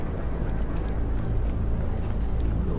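A vehicle engine in State of Decay 2 on Xbox Series runs as a loud, steady, low drone while the driver accelerates.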